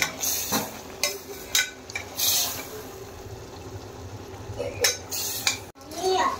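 A spoon stirs coriander leaves into a pot of poori curry in a home kitchen: repeated close scraping and clinking against the metal pot, with a faint sizzle underneath and no voices.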